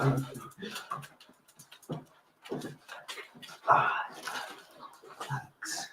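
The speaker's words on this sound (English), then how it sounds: "These dogs may be following me around." Dogs heard in short bursts of barking and yipping, close and uneven, mixed in with people talking.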